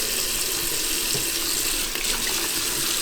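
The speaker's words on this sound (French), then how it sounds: "il faut bien se laver les mains." Tap water runs in a steady, close rush over hands being washed in a home kitchen during baking, with no talking.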